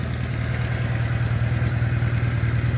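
A BMW R1100S motorcycle engine idling close by after synchronizing, a steady low rumbling pulse with even, regular firing beats and no voices.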